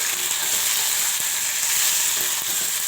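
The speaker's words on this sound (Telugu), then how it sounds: "దొండకాయలు అలాగే టమాటాలు అన్నీ వేసేసి ఒకసారి కలిపేసుకోవాలి" Ivy gourd, brinjal and tomatoes hiss loudly in hot oil, a dense, even sizzle with faint scrapes of stirring running underneath for the whole short stretch.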